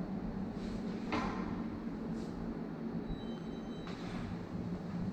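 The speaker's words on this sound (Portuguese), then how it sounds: "A porta está querendo fechar sozinha." A door in a furnished apartment drifts shut on its own, giving a few soft knocks and clicks over a steady low room hum.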